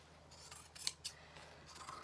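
Scissors snipping across curtain fabric while a curtain is shortened from the top, a few quiet crisp cuts and faint rustling, close to the microphone and very soft.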